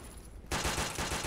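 Rapid automatic gunfire in Left 4 Dead 2, a loud sustained burst of shots that starts abruptly partway through after a quieter stretch and continues without pause to the end.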